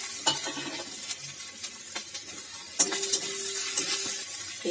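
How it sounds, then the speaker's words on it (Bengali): A paste of onion, ginger and garlic sizzles softly in a pan while a utensil stirs and scrapes it in scattered strokes. The sound is quiet and close, and no one speaks. "পেঁয়াজ আদা রসুন বেশ ভালো করে ভাজা হয়ে গেছে"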